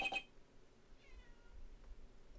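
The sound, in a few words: pet cat meowing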